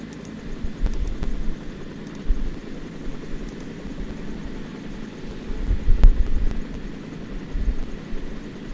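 Helicopter in the video game Warface, a steady low rotor drone with faint thudding that rumbles continuously at moderate level, with no talk.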